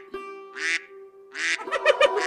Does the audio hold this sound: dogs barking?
no